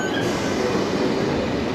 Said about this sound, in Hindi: क्योंकि मेट्रो में शोर ज़्यादा है इसकी वजह से आवाज़ कम सुनाई देगी